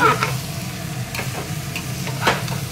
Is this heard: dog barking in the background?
no